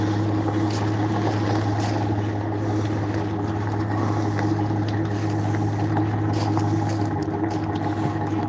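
A racing engine idles loud and steady at close range, a constant low rumble and hum holding without change throughout, with no voices.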